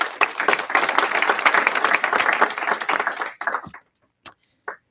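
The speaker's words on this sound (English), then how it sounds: "Let's give her a round of applause." Audience applause for teacher Orchid Dargahi at a press conference, vigorous close clapping for over three seconds, then breaking off into a few last scattered claps.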